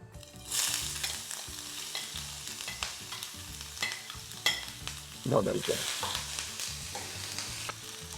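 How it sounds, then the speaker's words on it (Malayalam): Ginger drops into hot coconut oil and fries with a crackling sizzle, mixed with stirring scrapes and clicks. The sizzle rises sharply at the start and swells again near the end, close and moderately loud. "അപ്പൊ നമ്മുടെ എണ്ണ വെളിച്ചെണ്ണ നന്നായി ചൂടായിട്ട് ഇതിലേക്ക് നമ്മൾ ഇഞ്ചി ഇട്ട് കൊടുക്കാം"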